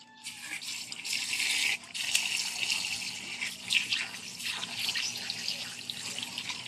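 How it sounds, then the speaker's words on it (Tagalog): Water runs from a tap in a steady splashing stream while fish is being cleaned, briefly interrupted then resuming, close and moderately loud with no talking. "Buksan mo yung tubig dyan."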